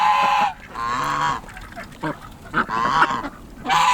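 Welsh Harlequin ducks give loud, close, honking calls in a pen setup, several overlapping bursts with short pauses between them and no talking.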